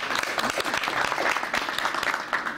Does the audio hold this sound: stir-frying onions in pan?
no